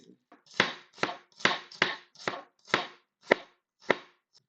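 Onions being chopped with a knife on a board, about nine sharp, close chops in an uneven rhythm over a quiet background with no talking.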